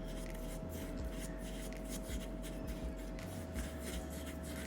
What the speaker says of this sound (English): And just stir.